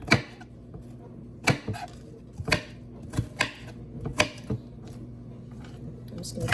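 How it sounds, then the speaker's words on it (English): Knife dicing onions on a cutting board, a series of sharp, irregular chops spaced about half a second apart, close and distinct over quiet room tone. "So here I'm just dicing, not mincing, just dicing"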